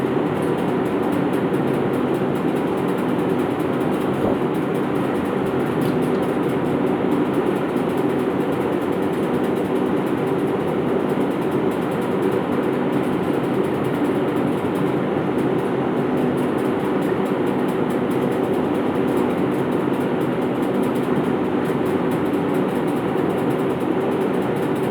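A plate machine with its plate and needle removed runs steadily for the whole stretch, a loud continuous mechanical drone with rapid rattling texture and no pauses.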